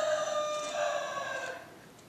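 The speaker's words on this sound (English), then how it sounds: "we got roosters." A rooster crows once in a single drawn-out call, moderately distant and fairly faint, heard alone.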